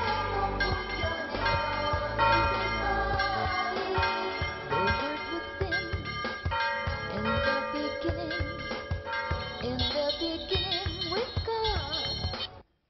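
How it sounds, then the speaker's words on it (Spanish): Church bells at the Monastery of El Paular ring out continuously in a dense, overlapping peal, loud and resonant, with faint voices underneath. "A las 8:15 comienzan a sonar las campanas."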